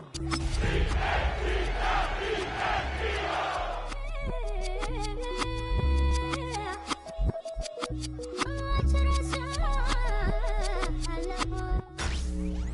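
A stadium crowd roaring in the Madden 26 football video game, a loud surging cheer at first that gives way to rhythmic music over a persistent crowd murmur, with the roar returning at the end.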